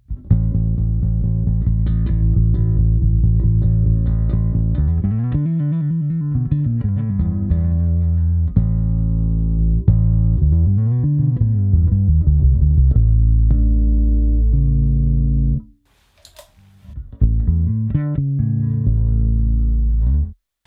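Bass guitar run through a pedal board with drive and distortion, playing sustained rumbling notes and sliding phrases, loud and close, with a brief pause near the end before the tone resumes.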